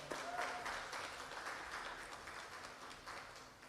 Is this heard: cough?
no